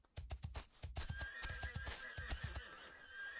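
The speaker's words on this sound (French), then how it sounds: "Ah, bah il est là mon cheval perdu." A horse in the colony-building video game Kingdoms whinnies and snorts between quick hoof clip-clops, several short bursts in a row, fairly close and clear, with no talking over it.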